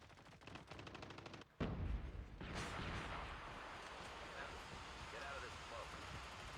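Gunfire in a mobile shooter video game: a quick rattle of rapid ticking, then a sudden loud blast whose tail fades into a steady rushing background.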